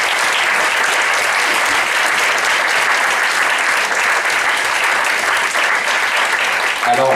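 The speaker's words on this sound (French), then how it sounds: "Je vous propose d'applaudir nos 4 porteurs de projets." Audience applauding four project leaders at an event about environmental entrepreneurs, a steady, dense wash of clapping that holds at full strength for the whole stretch without talk.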